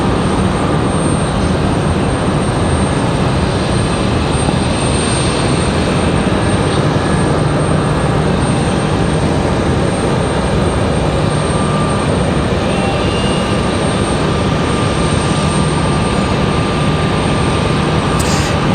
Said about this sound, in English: this 737-800 coming in fresh from LAX